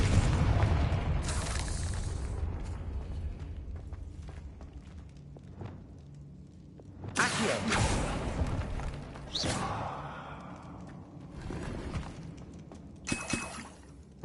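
A Confringo blasting spell in Hogwarts Legacy lets off several sharp, booming explosions with crackling debris, spaced irregularly amid quieter rumbling stretches and a lingering low background hum.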